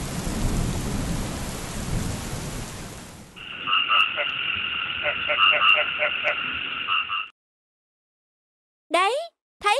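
Cartoon rainstorm: a heavy wash of rain hisses for several seconds, then cuts to a buzzing, croaking chorus under the rain before falling silent, with short cartoon voice chirps near the end.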